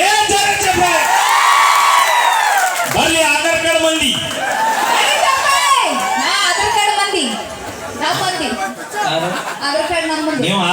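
A crowd cheers and whoops loudly celebrating RCB's cup win, many voices shouting over one another in a continuous, lively roar.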